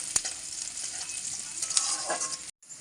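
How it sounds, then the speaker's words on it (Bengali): Chopped onion fries in hot oil in a wok with a dense, loud, continuous sizzle. Light scraping stirs sound through it, then there is a brief dropout near the end before the hiss resumes. "এবার দিয়ে দেবো পেঁয়াজ কুচি। পেঁয়াজটা ভালো করে ভেজে নিতে হবে।"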